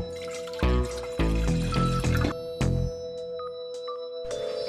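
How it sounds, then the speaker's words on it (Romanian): Tap water runs into a cooking pot in three short gushes, close and fairly loud, then trickles and drips over a steady ringing tone in a home kitchen. "Punem apa la fiert."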